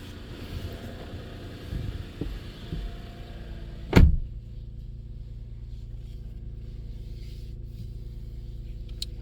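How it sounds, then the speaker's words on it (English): Power driver's seat in a 2019 Lexus ES350 sliding back: a low, quiet motor hum inside the cabin, ending in a single solid thunk as the seat stops, then near silence. "Scoot that seat back a little bit just to get a little more comfortable."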